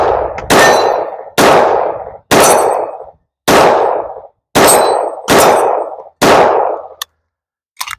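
HP7 9mm blowback pistol fired in a steady string of about eight loud, sharp shots spaced under a second apart, each ringing off briefly, with no talk.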